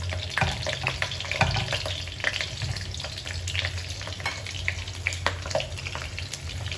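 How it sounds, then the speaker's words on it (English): Onions fry in hot oil in a pan as a steady, close sizzle with scattered crackles and stirring scrapes, and no voices. "now you just heat up a pan with some oil, and then first thing you do is add in all the onions"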